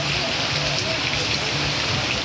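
Steady rain pours over a street market in Pindi Bhattian, a dense continuous patter of drops on surfaces, fairly close and loud, with no voices.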